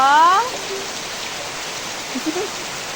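A steady wash of heavy rain fills the air, with a voice briefly speaking at the start and faint murmurs later.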